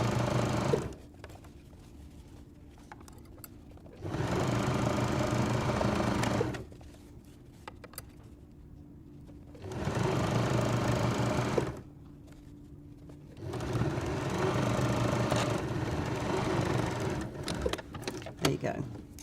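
Domestic sewing machine top stitching fabric close by, with three steady bursts of running stitches separated by quiet pauses in which a voice talks.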